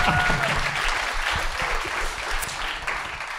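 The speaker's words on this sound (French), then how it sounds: "Moi, je veux qu'on applaudisse Brossard ce soir." An audience at a cabaret show claps steadily in a short burst of applause, moderately loud and fading slightly toward the end.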